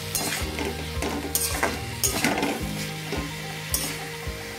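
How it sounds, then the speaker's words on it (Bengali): Boiled potatoes being stirred with ghee and garam masala in a pan, a spoon scraping and turning in steady strokes over a soft continuous sizzle, with a few sharper knocks against the pan. "ভালো করে নাড়িয়ে দেবো।"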